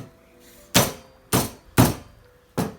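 A hammer strikes a chocolate Easter egg four times in sharp, close, hollow thunks spaced about half a second apart, with quiet gaps between blows.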